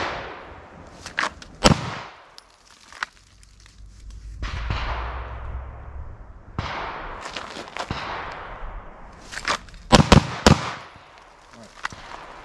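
Pistol shots fired with a red dot sight at an outdoor range: a few sharp, loud cracks spread apart, with a tight cluster near the end, separated by quieter stretches of background noise.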